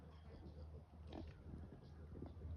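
Mother pig grunting low and steadily while nursing tiny piglets in a farm pen, soft repeated grunts close by with faint rustling throughout.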